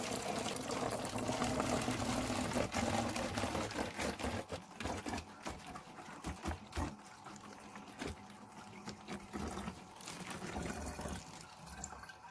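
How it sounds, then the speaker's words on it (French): Hot water poured from a kettle into a plastic bottle while making a homemade cleaning solution, a steady watery pour with gurgling that loosens and thins out toward the end, heard up close and alone. "Je mets mon eau chaude dedans."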